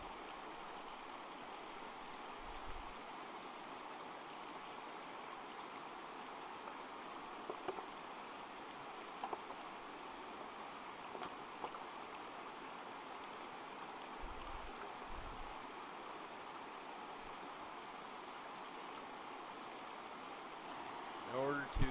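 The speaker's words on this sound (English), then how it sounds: "A sluice box is a trough with water flowing through it." Water rushes steadily through a sluice box trough set up for highbanking gold in southwest Oregon, a constant broadband wash that stays even and unbroken from start to finish.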